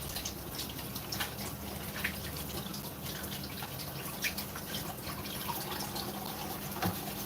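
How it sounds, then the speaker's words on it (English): Kitchen tap running steadily as hands are scrubbed clean of dumpling dough, a soft continuous splash broken by small drips and knocks, close by with no talking. "Let me wash my hands."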